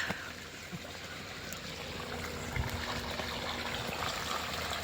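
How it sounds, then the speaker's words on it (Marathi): Irrigation water flowing through a farm channel into an onion field, a faint continuous trickle and gurgle heard steadily, without any talk. "माळव्याला पाणी द्यायला चालू आहे बघा."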